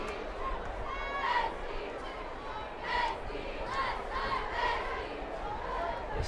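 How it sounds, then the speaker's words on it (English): San Dimas cheerleaders and the home crowd cheer at the 2019 SmudgePot high school football game against Bonita, a broad roar of voices swelling in several waves amid ongoing crowd chatter. "The San Dimas cheerleaders trying to pump up the San Dimas crowd"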